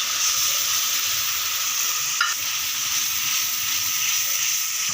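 Tomato paste goes into ginger-chili paste and spices sizzling in hot oil while cooking vegetarian chhana kofta curry, a steady close frying hiss with a brief stir-like disturbance midway.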